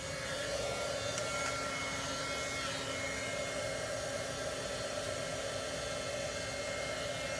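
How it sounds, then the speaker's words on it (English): A heat embossing tool blows hot air in a continuous, even whoosh with a faint whine, steady and close for the whole stretch. "This is the heat tool, for those of you that aren't aware, familiar with it."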